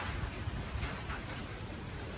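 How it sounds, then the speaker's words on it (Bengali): Steady, soft rain from cyclone Remal hisses continuously in the distance, with low rumbling underneath and no voices. "আর বৃষ্টিটা তো এখনো পড়ে যাচ্ছে"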